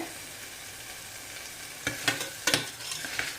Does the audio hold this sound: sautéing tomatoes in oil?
yes